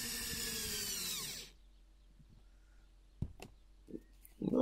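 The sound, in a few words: power drill driving roofing screws into corrugated bitumen sheets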